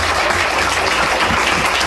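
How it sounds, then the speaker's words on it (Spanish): Loud, dense applause fills a church service, with continuous clapping from a large congregation and no pauses. "Dale un fuerte aplauso a Cristo en esta hora."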